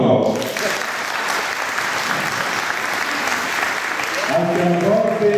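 An audience at an exhibition event in Foggia applauds an ethno-jazz music group, sustained dense clapping filling the room, with a voice starting to speak over it near the end.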